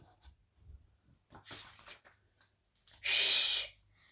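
A storyteller's voice imitates a sneeze: soft breathy intakes build up, then one sharp, loud, hissing burst near the end, close and alone.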